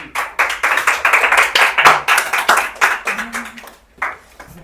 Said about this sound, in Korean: 그게 이렇게 박수까지 쳐줄 일이야?